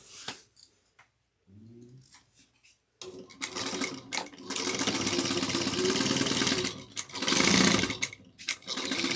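A sewing machine stitches a seam through a woven tote bag with interfacing, running in several bursts of close, steady whirring separated by short pauses and handling noises.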